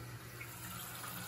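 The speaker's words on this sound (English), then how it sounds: "So I'm going to turn the water on." Tap water runs steadily while a Samodra bidet is tested for leaks after installation, a close, continuous hissing flow with no pauses or talking.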